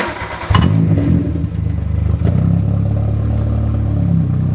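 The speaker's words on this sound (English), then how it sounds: "We have the muffler off. Start the car." A Porsche 944 engine with its muffler removed cranks and starts abruptly, barks with a sharp rev, then settles into a loud, rough, rumbling idle.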